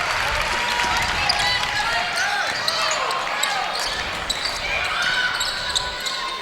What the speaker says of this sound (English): Gets the standing ovation from the crowd.